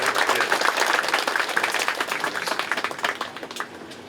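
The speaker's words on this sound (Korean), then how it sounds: "우리 뜨겁게 박수로 환영하겠습니다." Audience in a church hall giving warm welcoming applause at an opening thanksgiving service for a memorial museum, brisk dense clapping that gradually thins out toward the end.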